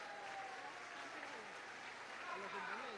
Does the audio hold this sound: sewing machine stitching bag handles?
no